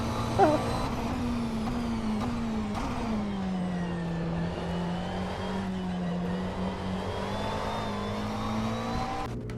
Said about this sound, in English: GT3s in rFactor 2. The McLaren is one of my favorite ones